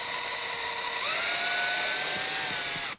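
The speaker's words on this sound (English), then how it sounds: "do a little countersink so I don't split the wood" A power drill cutting a countersink into wood for a PVC pipe birdhouse, a close, continuous whirring whine that rises in pitch after a second under load, then cuts off at the end.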